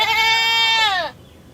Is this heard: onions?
no